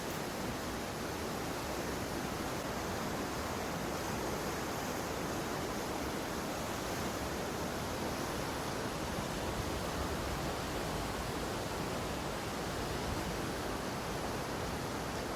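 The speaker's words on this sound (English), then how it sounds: "Though that is a beautiful river." A river runs through Dolerw Park in Newtown, Powys, Wales, giving a steady, even rush of flowing water that fills the scene without a break and with no voices.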